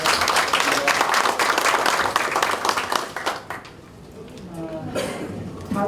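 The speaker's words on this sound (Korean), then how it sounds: "박수 한번 보내주세요." Clapping from an audience at a Democratic Party of Korea supreme council meeting in Jeonbuk fills the first few seconds, dense and steady, then thins out and fades as the room quiets.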